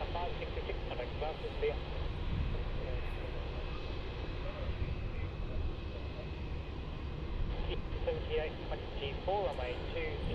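A Velocity airliner landing on runway 16 at Melbourne Airport, arriving from Brisbane, its steady broadband jet roar holding at a moderate distance throughout, with faint voices in the background.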